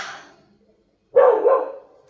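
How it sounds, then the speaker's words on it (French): A female dog in the countryside lets out a single loud, close bark after a short silence, the bark holding for almost a second before fading. "Elle aboie bien en plus"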